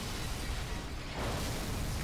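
Explosions in the action video game Vanquish, heard as a dense, continuous roar of broadband noise that stays loud throughout without clear breaks, with a slight swell about midway.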